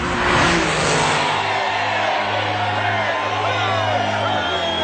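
Cartoon race cars speed toward the finish line of the International Grand Prix, a loud, steady engine roar and revving with a crowd cheering beneath it.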